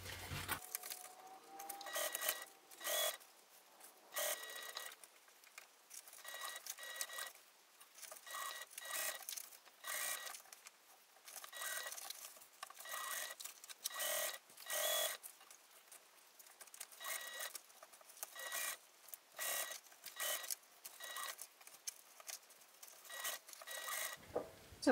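A home sewing machine stitches binding onto a small fabric pouch, running in short, slow bursts of rapid mechanical ticking with brief pauses between them, close and fairly quiet, with no talking.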